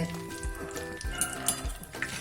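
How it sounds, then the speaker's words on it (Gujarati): Peanuts frying in oil in a pan over a full gas flame while making a sweet-and-sour nylon poha chivda, a steady close sizzle with soft scraping as a spoon stirs them, no talking. "હવે સિંગદાણા તળી લેશું"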